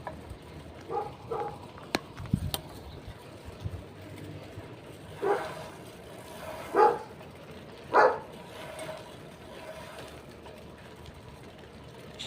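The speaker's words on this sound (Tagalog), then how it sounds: "Si Doggy kumakahol." A dog named Doggy barks a few spaced, separate times at mid distance, with birds cooing and faint household sounds around it.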